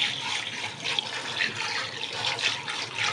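Leafy greens are rinsed under running tap water, producing a close, continuous gush of splashing water with uneven surges.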